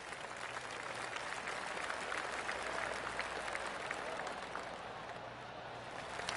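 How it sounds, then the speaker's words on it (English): Polite golf gallery applause at the Farmers Insurance Open, a steady patter of many hands clapping at moderate distance, sustained evenly for several seconds without cheering. "Oh, golf clap."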